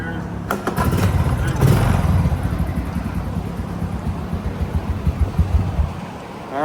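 A Honda TRX90 ATV, a barn find fitted with a new spark plug and given a little fluid in the engine, cranks and fires, then runs roughly with a loud, rumbling drone and gusty wind noise.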